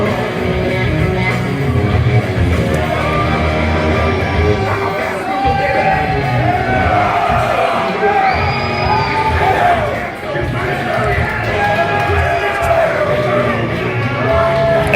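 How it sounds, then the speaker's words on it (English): A professional wrestling arena crowd cheers, yells and whoops without stopping, loud and close, with scattered shouts rising out of the roar and a voice talking under the noise. "It's very evident that this crowd would love, absolutely love, to see Nothing lose the title here this evening."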